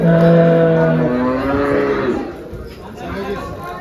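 A cow moos loudly and close by, then lower moos and a murmur of voices carry on around a busy cattle market selling HF and Jersey cows.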